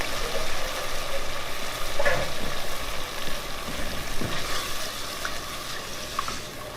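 Coconut milk poured into a hot pan, a continuous watery sizzle and bubbling with a few light clinks, moderately loud and close, without speech.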